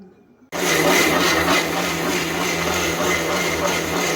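A mixer grinder grinding grated coconut with water starts abruptly and whirs loudly and steadily, a close, constant motor drone with a churning, gritty edge that runs alone until it cuts off.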